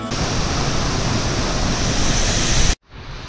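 Waterfalls at Plitvice Lakes National Park roar as a loud, dense, steady rush of falling water, close and unbroken for nearly three seconds before cutting off abruptly.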